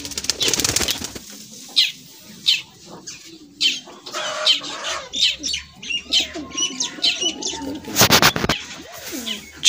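A pigeon is released and takes off in a burst of flapping wings, followed by repeated soft wingbeats and coos and chirps from nearby birds, with a short loud flutter near the end.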